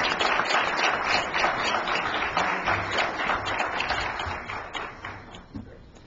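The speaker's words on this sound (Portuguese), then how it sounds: "Por favor, recebam com suas palmas." Audience at a federal judicial seminar in Paraíba applauding as a judge is welcomed to the panel, a continuous spread of clapping across the room that slowly thins toward the end.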